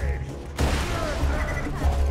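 Gunfire in Borderlands 2 breaks out in a burst of rapid, close shots after a short quiet start, with a voice speaking over it.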